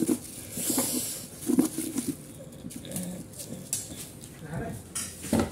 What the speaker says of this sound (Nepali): अब चाहिँ ल प्याज स्याज काट्नु पर्यो।